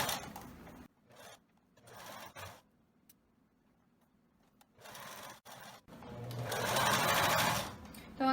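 A sewing machine stitches wide elastic in several short runs separated by pauses, with a longer, louder burst of fast stitching near the end, close and clear.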